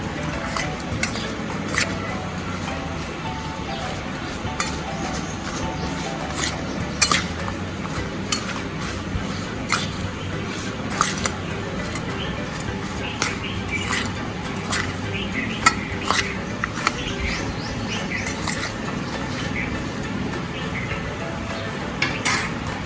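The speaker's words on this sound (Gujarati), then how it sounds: "બે ટેબલ સ્પૂન જેટલો તેલ એડ કરીશું મિક્સ કરી લેશું" Oil stirred with a spoon into cut raw mango pickle pieces coated in spice powders: close, wet squishing and smearing with frequent light spoon clinks against the bowl throughout.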